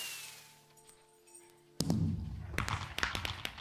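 Minecraft firework burst, a large yellow ball with a twinkle effect, a sudden loud crack after a quiet stretch followed by scattered crackling pops fading out.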